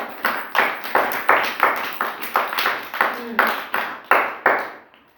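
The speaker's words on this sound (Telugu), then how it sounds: "claps claps" A group of children clapping their hands in a classroom activity, about a dozen rhythmic bursts of claps in a steady beat, close and fairly loud, with voices faintly mixed in.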